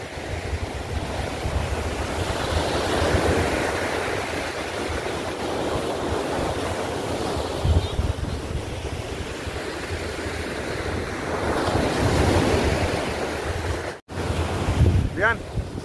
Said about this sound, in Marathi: गोव्यासारखा समुद्र,